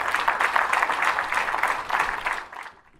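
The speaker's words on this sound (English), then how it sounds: "So we also applaud Hannah." A crowd at an award ceremony applauds steadily for a few seconds, the clapping dense and even before tapering off and fading to silence.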